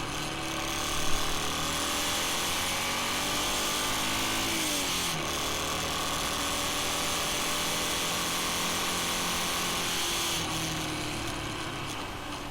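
Yamaha XT250 motorcycle ridden along residential roads, its single-cylinder engine droning steadily and close, pitch dipping and climbing with throttle changes over buzzing wind noise, with no talking.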